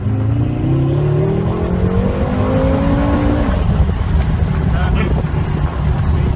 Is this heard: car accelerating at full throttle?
yes